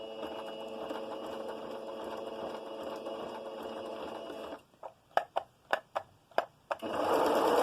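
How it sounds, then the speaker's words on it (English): A sewing machine zigzag stitching garment seams runs in a steady close whir, then stops and restarts in several short separate bursts before settling into a continuous hum again. "you're going to sew and you're going to zigzag all 4 seams to get your panel through"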